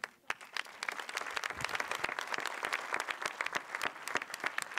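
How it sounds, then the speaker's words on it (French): An opening-ceremony audience applauds the five young jury members with many hands clapping, a sharp onset and then sustained, fairly even clapping that stays clear and unbroken by talk. "on peut les applaudir, des 5 membres du jury jeune"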